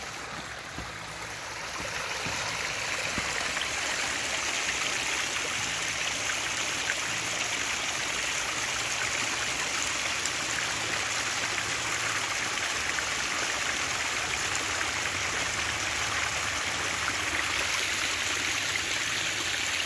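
Water pouring steadily into a pond over a liner sealed with bentonite, a broad, continuous rushing and splashing that starts softer and swells within the first couple of seconds, then holds close and even throughout, with no voices.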